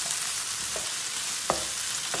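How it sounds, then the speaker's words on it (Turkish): Tomato paste frying with diced tomato and pepper in a pan, a steady soft sizzle with a few brief stirring scrapes, heard alone and fairly quiet. "Tam bu aşamada sote doğranmış domates biberini ilave ediyoruz."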